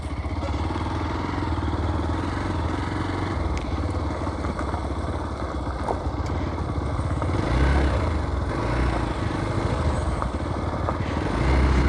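A 310 GS motorcycle rides ahead over rough ground, its engine a constant mid-pitched drone heard with steady clatter from the trail, fairly loud throughout.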